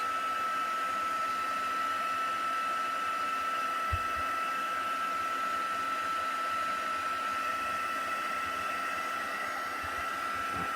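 A hair dryer blows steadily to dry a damp Christmas craft piece, a continuous close whooshing hiss with no talk over it.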